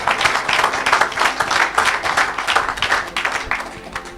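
A church congregation claps in acclaim of Jesus, a brisk, fairly loud rhythmic applause with rapid pulsing claps and no clear speech over it.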